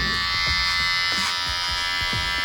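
Electric hair clippers buzz continuously and loudly up close during a home haircut for a man, with faint, irregular soft brushing strokes under the steady drone.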